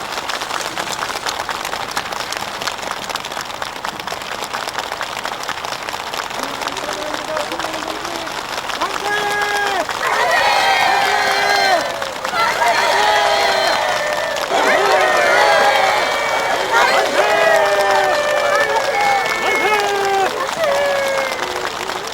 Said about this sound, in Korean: 참가자들의 뜨거운 격정과 열렬한 박수 속에 전달됐습니다.